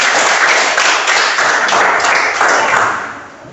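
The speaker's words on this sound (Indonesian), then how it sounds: "Berikan tepuk tangan untuk anak Indah." Close, loud applause from a classroom of students during a coaching session, a dense, slightly pulsing clatter of hands that eases off near the end.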